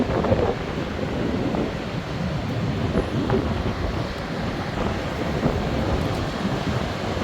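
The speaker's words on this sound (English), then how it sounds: "There's the ocean, the Atlantic Ocean." Atlantic Ocean surf washing onto a beach at sunrise, a steady broadband roar of breaking waves mixed with wind buffeting the microphone, continuous and fairly loud with no speech.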